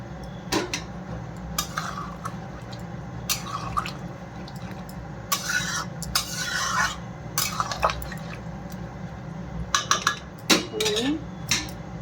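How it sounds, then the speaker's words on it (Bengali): A plate clatters onto a metal pot of mixed vegetables simmering with a little water, giving several close clinks and scrapes of metal and ceramic, with faint dripping and bubbling in between. "সবজিটা ঢেকে দিচ্ছি।"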